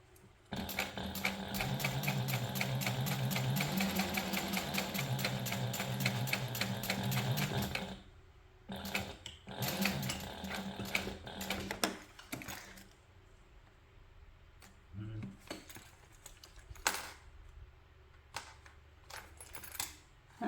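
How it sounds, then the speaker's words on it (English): A sewing machine runs steadily for about eight seconds, top stitching a 1/8 inch seam beneath a zipper on a crossbody and waist bag. Short bursts of stitching and faint handling clicks follow, with no talking. "top stitch beneath the zipper using a 1/8 inch seam allowance"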